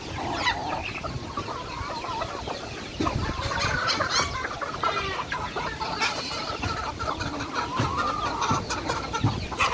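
Rhode Island chickens on a farm, bred alongside native birds, cluck and chatter steadily as a close, busy flock, several overlapping calls with no talking.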